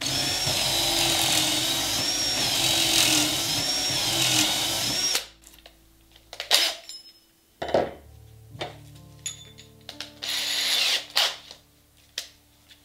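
A power drill whirs steadily for several seconds boring a hole in clamped wood, then stops; short bursts of drilling and clanks of tools and metal follow intermittently, close by.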